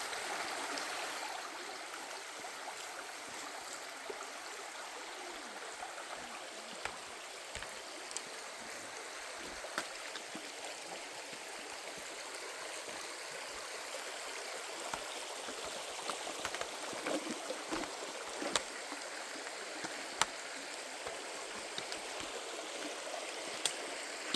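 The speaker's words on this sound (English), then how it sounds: "No wonder there's always water flowing through here." A stream of water flows steadily through Fern Canyon, a continuous bright rushing hiss with small splashes and trickles, fairly close and even throughout with no voices.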